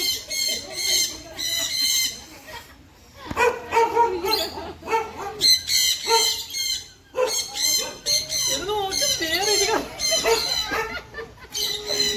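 Young chicks cheep almost nonstop in shrill, high-pitched bursts, close and fairly loud, with a few brief pauses and some deeper animal noises mixed in underneath.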